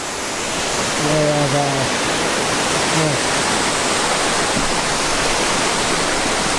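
Waterfall in a mossy, green jungle creek, a loud, steady broadband rush of falling water that fills the whole scene, with a brief voice and a few tonal bits briefly heard over it early on.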